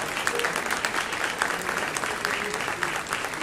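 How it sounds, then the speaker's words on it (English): Audience applause at a junior high school spring concert, a dense, fairly loud burst of many hands clapping steadily with no break. "please give a round of applause"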